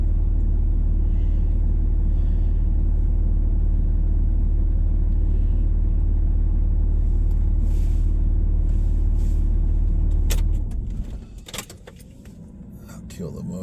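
A car engine idles on snowy mountain Highway 38 near Big Bear in a blizzard, a loud, steady, close low rumble that cuts out near the end, leaving a few clicks and a quiet cabin.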